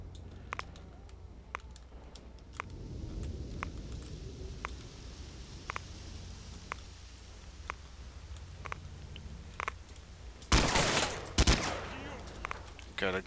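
Gunfight in S.T.A.L.K.E.R. Shadow of Chernobyl with the Oblivion Lost mod: scattered single gunshots crack at intervals, some distant, before two loud close bursts of fire near the end, with a faint voice underneath.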